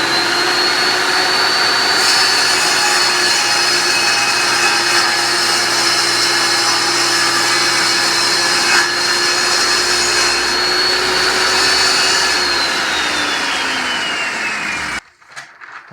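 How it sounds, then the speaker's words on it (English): A power tool trims excess off an MDF board, whining loud and steady at close range for about fifteen seconds before winding down and stopping. "I just finished cutting the board to size"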